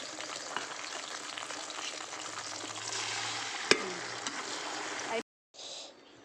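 Okra bajji fritters frying in hot oil, a steady dense sizzle with a brief sharp clink partway through, cutting out near the end before a short quieter return.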